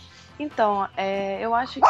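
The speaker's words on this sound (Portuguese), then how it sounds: "Há um cachorro latindo em algum lugar." A dog barks somewhere in the background during a podcast conversation, its repeated barks overlapping a person speaking in the foreground.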